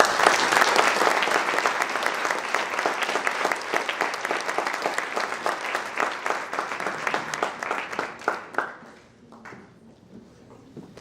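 Warm applause at the opening of an academic week at a faculty of political and social sciences, welcoming a consul: dense, loud clapping that holds steady, then breaks into a few last claps and dies away.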